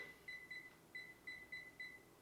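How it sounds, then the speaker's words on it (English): A kitchen stove timer being set gives a run of short, high electronic beeps, about seven evenly spaced chirps, clear and close over faint room noise. "we're going to set the timer on the stove real quick"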